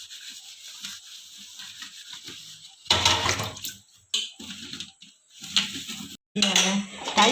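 Used dinner plates are washed in a home kitchen sink, with clattering dishes, running water and rubbing in uneven bursts, interrupted by quiet gaps and a voice speaking at times.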